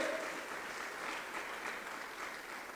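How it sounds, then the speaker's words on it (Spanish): Church congregation clapping steadily together, a dense sustained burst of applause filling the room throughout, with no voices heard. "Dele fuerte las palmas al Todopoderoso si usted lo cree."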